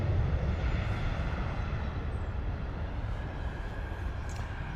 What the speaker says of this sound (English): Ryanair arrival coming in from Lanzarote.